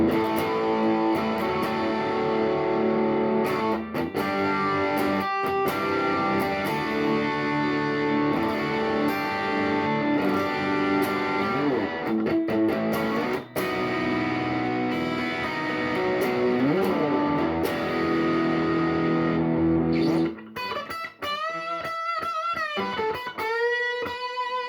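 Distorted electric guitar played through a Lekato WS-50 wireless system, sustained chords and riffs with heavy drive throughout, ending in sliding, bending notes, with no talking.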